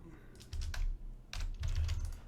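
Quiet clicking from typing on a computer keyboard, two short bursts of keystrokes under low background rumble, faint and close, with no talk.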